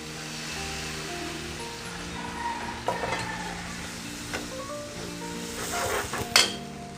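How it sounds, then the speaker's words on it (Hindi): Tamarind water is poured into a hot pan for an Odia small-fish curry, giving a broad, steady sizzle with some stirring scrapes and a sharp clatter near the end, and no talk. "तेंतुल पानी को ऐड करूछि।"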